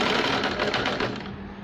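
A sewing machine stitches pleats into a frill on a baby's frill frock, giving a fast, steady whirring run of needle strokes held close and fairly loud for the whole moment, with no talking.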